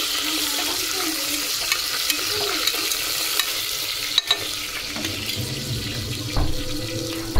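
Soaked rice being fried and stirred in a pan, with a steady broadband crackle and sizzle plus occasional clinks and scrapes of a utensil, a few louder knocks near the end, no talking.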